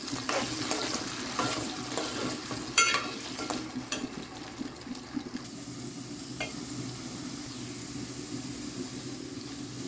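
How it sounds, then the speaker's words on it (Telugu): Potato pieces frying in oil in a home kitchen, heard as a soft continuous sizzle with some clatter early on, becoming quieter and steadier. "బంగాళదుంప ముక్కలు ఆయిల్లో వేసుకోవాలి"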